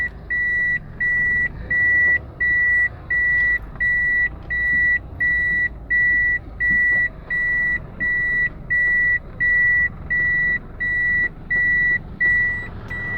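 A car in reverse sounds a steady beeping warning, about thirteen evenly spaced pips in a row over low engine rumble, with no one talking.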